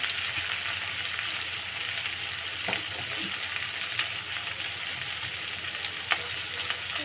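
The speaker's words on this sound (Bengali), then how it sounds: "ভালো করে ভেজে নিয়ে আর আলু আর কাঁকড়া ভালো করে কষাকষি করছি।" Crab pieces and potatoes sizzle steadily in hot oil in a pan, with scraping and clinking from occasional stirring over the continuous frying hiss.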